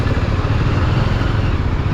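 A Jawa 42 motorcycle engine runs steadily and close by during servicing, with a dense, even low rumble and clatter throughout.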